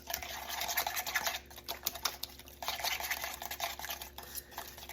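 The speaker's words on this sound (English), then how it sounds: "I want to see if a whisk will work better." A whisk stirring thick tzatziki sauce in a bowl, giving a fast, continuous scraping and clicking rattle up close, with a brief pause in the middle and no talking.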